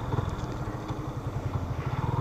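A Yamaha Fazer 250 ABS motorcycle engine runs steadily with a pulsing low rumble, moderately loud and close, as the bike rides along a rural road.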